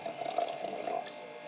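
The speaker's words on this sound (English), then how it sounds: "So first thing you want to do, you're going to pour this like less than halfway." Tap water pours steadily into a glass, a continuous close splashing trickle heard alone for a brief moment.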